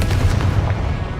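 A Confringo blast spell from Hogwarts Legacy goes off as a short, loud booming burst with a heavy low rumble and a few sharp cracks, gone within about a second.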